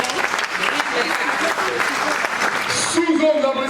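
A crowd applauds steadily, a dense wash of clapping that continues throughout while a voice speaks over it near the end.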